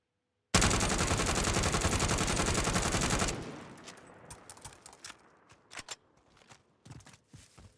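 Krig rifle fitted with a 3x scope firing a sustained full-auto burst in Call of Duty Warzone, about three seconds of rapid loud shots, then scattered clicks and ringing tail.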